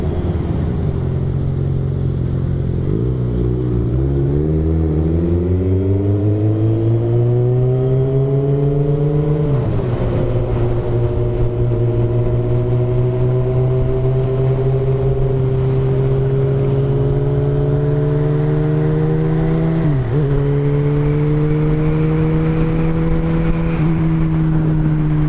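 A Honda CBR600RR sport motorcycle's engine on a straight, heard close up from the rider, rising through the revs in a climbing whine, shifting gears twice and holding a loud, steady high-pitched drone.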